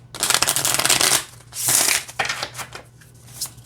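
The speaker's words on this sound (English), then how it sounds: "I don't have an issue shuffling them." Cards being shuffled up close, several quick riffling bursts with brief pauses between them, no talking.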